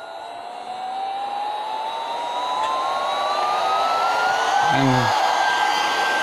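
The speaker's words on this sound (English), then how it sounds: "It's the KeepTPeek keyboard vacuum. Sounds like a jet engine when you fire it up." A KeepTPeek keyboard vacuum runs with a loud, jet-like whine whose pitch climbs steadily as it spins up, steady and close with no talk over it.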